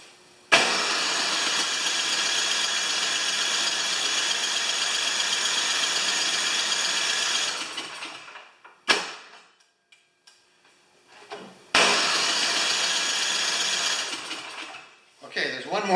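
A snowblower engine, freshly worked on at the carburetor, is started and runs with a loud, close, steady roar for about seven seconds before dying out; after a quiet pause it catches again and runs a few more seconds.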